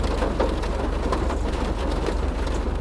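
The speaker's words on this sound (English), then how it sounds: "When you're driving an old car in the rain, you can clearly hear the raindrops hitting the roof." Rain drumming on a car roof inside the video game GTA, a dense, steady patter of drops that stays loud and close for the whole stretch, with no voices.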